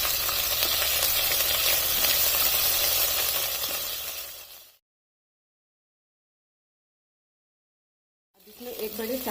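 Garlic and ginger paste sizzles and fries steadily in hot oil for several seconds, a loud continuous hiss, then cuts to silence before a brief return of kitchen sound.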